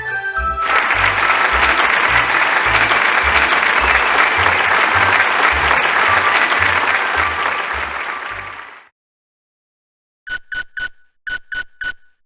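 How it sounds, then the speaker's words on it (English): Loud, sustained crowd applause in the PS2 survival game Raw Danger at a city celebration, a dense wall of clapping lasting about nine seconds before cutting off, followed by a few short bright chiming tones. "Ladies and gentlemen, a big round of applause for Mayor Goldstein."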